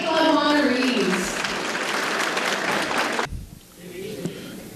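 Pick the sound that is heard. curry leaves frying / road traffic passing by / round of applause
round of applause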